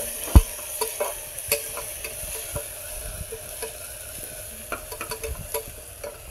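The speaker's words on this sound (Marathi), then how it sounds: "टोमॅटो पण चांगला तेलात शिजवून घ्यायचा आहे" Tomato cooking in oil in a pan sizzles with a steady frying hiss, broken by occasional scrapes and taps of a spoon stirring the mixture, with no talking.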